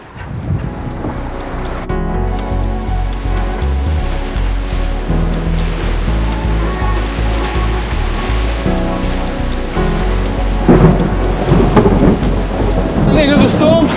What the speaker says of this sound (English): Into the storm.